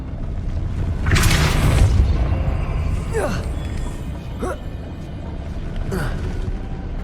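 Depulso and Glacius spell effects in the Hogwarts Legacy game, a heavy booming blast with a rumbling low end, followed by several shorter whooshing casts spaced a second or so apart.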